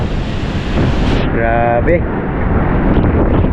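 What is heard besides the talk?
strong typhoon wind and waves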